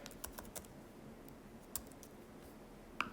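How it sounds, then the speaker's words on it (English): Typing a message on a computer keyboard during a chat, with scattered quiet keystroke clicks at an irregular rhythm and a sharper click near the end, close and soft over faint room noise. "I am typing a message"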